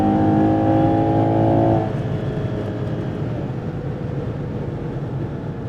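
A Ferrari Purosangue V12 SUV at full throttle on the autobahn: a loud, steady engine roar with a strong rising tone for the first two seconds, then a dense broadband rush of road and wind noise, with no talking.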